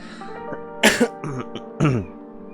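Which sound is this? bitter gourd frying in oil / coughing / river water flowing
coughing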